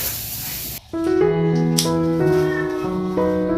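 A cat meows in a domestic setting, a few drawn-out tonal cries close by, following a short burst of hissing spray-like noise at the start.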